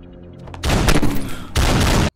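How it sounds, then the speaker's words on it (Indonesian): Shark opens fire on Tai Long in the Malaysian gangster film KL Gangster 2, with two loud, close bursts of rapid gunfire following a short lead-in. "terhenti karena datangnya Shark yang menembaki Tai Long"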